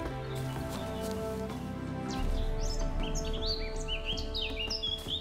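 Songbirds in The Witcher video game trill and chirp in quick overlapping phrases above continuous game music and low ambient drone, fairly clear and close.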